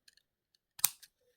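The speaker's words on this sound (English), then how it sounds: "So find my cutters, cut a bit off." A single sharp snip of wire cutters cutting jewellery wire for wire-wrap earrings, close and crisp, preceded by a few faint clicks of handling in an otherwise quiet room.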